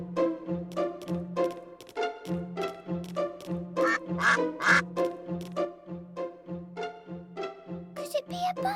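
Cartoon duck quacks from the Peppa Pig video game on Nintendo Switch, repeating steadily through a bright, bouncy music track that plays for the whole stretch.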